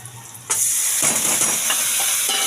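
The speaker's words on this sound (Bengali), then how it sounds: "এটাকে মশলার মধ্যে দিয়ে আবার কষাবো" Malabar spinach stalk pieces stir-fried in spices in a hot pan, a steady loud sizzle with hiss, beginning after a short quiet start and carrying bursts of scraping and stirring.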